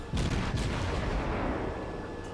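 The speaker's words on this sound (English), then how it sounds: "So I'll just get back into the fight, fire long range at this New York." Long-range naval gunfire from the destroyer Farragut in World of Warships, with a heavy rumbling shot followed by a low, sustained roar that fades slowly over a couple of seconds.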